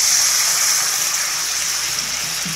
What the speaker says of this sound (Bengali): এবার আমরা জল অ্যাড করে দেব